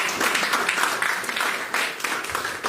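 An audience at a Hindi-language Christian debate gives lively applause in uneven surges, fairly close and loud, with no speech over it.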